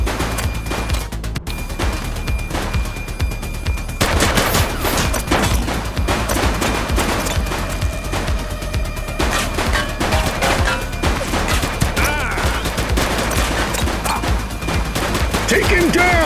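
Heavy gunfire in a police shootout in the video game The Precinct, loud bursts of rapid shots and crackling volleys filling the whole stretch, with brief shouted voices mixed in.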